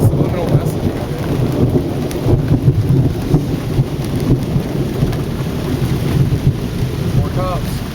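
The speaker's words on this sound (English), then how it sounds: "If it wasn't for this rain." Heavy rain pouring steadily during a thunderstorm, with low thunder rumbling underneath throughout; a dense, continuous roar with no voices.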